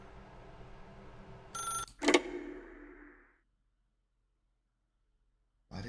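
A telephone rings inside The Stanley Parable video game, sounding as one sharp, bright bell burst with a clear ringing decay that fades into silence, followed by a faint noise near the end.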